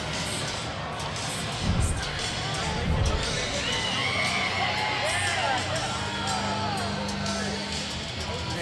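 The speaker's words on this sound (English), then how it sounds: "you could hear the crowd when they saw that punch" A bare-knuckle fight crowd erupts into loud cheering, whoops and shouts at a knockout punch, a dense roar of many voices sustained for several seconds, with commentators talking over it.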